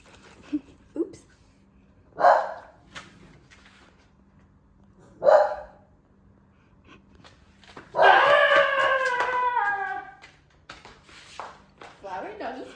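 A dog gives a few separate sharp barks, then breaks into a long drawn-out wavering howl, close and loud, with quiet talk between the sounds.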